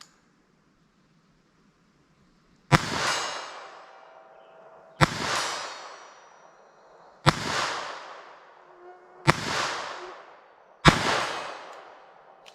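.22 Long Rifle rounds fired from a slingshot: five sharp, loud cracks spaced about two seconds apart, each trailing off in a short, ringing decay, with silence before the first shot.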